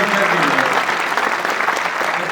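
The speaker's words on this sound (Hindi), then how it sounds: "जोरदार तालियां एक बार हो जाए हमारे साथ।" Loud, dense applause from the crowd at an all-India Hindi poetry recital, a thick wash of clapping throughout a couple of seconds, close and full.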